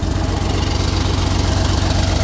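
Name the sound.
Caterpillar CAT320B excavator engine idling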